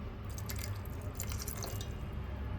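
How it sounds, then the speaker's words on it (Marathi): Water pours into a pressure cooker on a home kitchen stove, a steady close trickling and dripping that runs continuously throughout without talk. "थोडंसं आणखी पाणी घालते मी यात."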